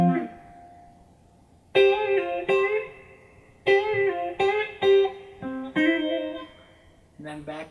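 A guitar plays a song's line as bursts of picked notes and a quick trill. Short phrases are separated by pauses, close and clear with no voice over them.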